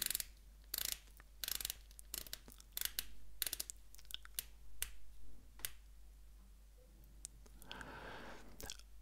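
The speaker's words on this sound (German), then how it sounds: "Die Lünette rastet mit 60 Klicks in eine Richtung, so wie es sich für eine Taucheruhr gehört." The rotating bezel of a Stowa Prodiver dive watch, a unidirectional bezel with 60 clicks, gives a run of crisp, close ratcheting clicks in irregular bursts, with faint handling noise in between.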